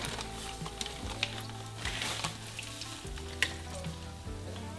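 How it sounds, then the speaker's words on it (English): Gizzard shad pieces frying in hot oil, a steady close sizzle and crackle running throughout with a few brief clinks and bubbling pops, no talking. "we'll take them out and fry them up. Our oil is hot."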